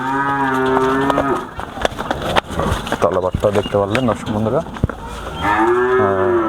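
A Holstein Friesian heifer calf at a cattle sale lets out a long, loud moo at the start and another near the end, with someone talking close by in between.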